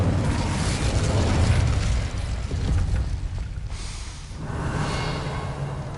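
A fire spell cast in Hogwarts Legacy erupts as a loud, sustained whooshing burst of flame, full and rumbling through the low end, easing briefly before a second swell of roaring fire, with no voices.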